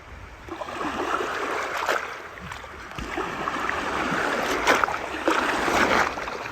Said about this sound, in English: I finally had the chance to capture waves at eye level